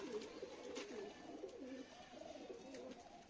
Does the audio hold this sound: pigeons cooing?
yes